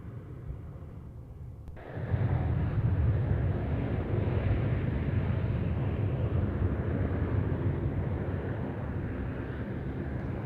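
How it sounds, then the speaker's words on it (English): A Jetstar airliner on Flight 460 to Ballina departs off runway 25. After a quiet start, a sudden loud, steady, wind-buffeted engine roar rises and holds at a distance. "just about to depart off runway 25, Jetstar Flight 460 to Ballina"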